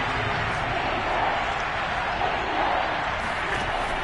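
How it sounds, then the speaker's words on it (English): In a Madden football video game, a stadium crowd roars as a steady, dense wash of noise that holds evenly throughout, with no clear individual voices. "Here comes a big one as this crowd gets up making some noise."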